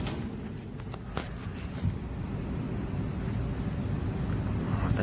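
Worn, nearly failed blower motor bearings in a cooling system run with a continuous rough, gritty rumble and rattle, steady and fairly close with no talk.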